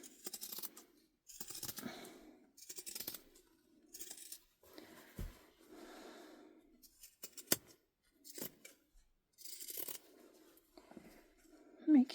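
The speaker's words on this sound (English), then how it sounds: "We are going to trim this down." Scissors trim the end of a fabric tote bag in a series of short, crisp snips spaced apart. Faint quiet talk sits between them.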